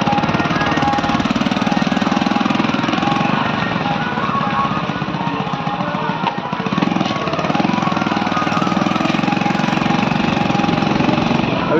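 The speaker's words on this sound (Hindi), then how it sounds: "देखिए बाइक पे बैठे हैं अभी" Motorbike engine while riding on a road in India, a loud, steady, close-up buzzing drone with rough wind noise, no talk.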